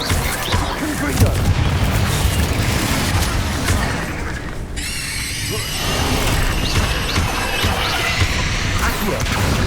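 Repeated Confringo blasting-spell explosions in the Hogwarts Legacy video game, a dense, continuous barrage of loud booms and crashes with a brief sharp burst in the middle, no pauses between impacts.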